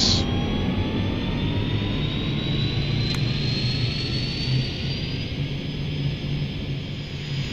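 Pilatus PC-12/47 turboprop engine starting in the X-Plane 12 flight simulator: a loud, steady roaring rumble with a thin high whine rising gradually in pitch as the engine spools up, and one brief click partway through.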